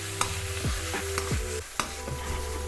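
A spoon stirs sauce into vegan filling in a hot pan, giving soft scraping strokes and a few sharp clacks against the pan over a quiet, steady sizzle.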